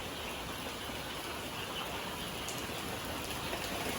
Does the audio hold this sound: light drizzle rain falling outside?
yes